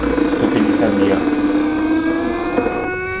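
A homemade vibration speaker built from a vacuum cleaner drones a steady 150 Hz tone, loud and close, with a buzzing rattle and people talking over it.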